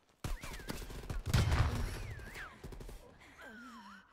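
Video-game gunfire in Call of Duty Cold War Prop Hunt comes as loud, close bursts of rapid shots, with whistling in-game effects between them.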